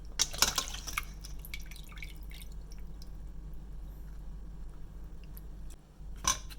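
Water drips and trickles through a strainer while dessert ingredients drain, a close, wet patter with a few sharper splashes near the start and end.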